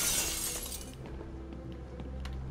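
Glass shatters loudly in Batman: Arkham City, a bright crash at the start that fades into scattered tinkling debris over a steady game background hum, with no voices.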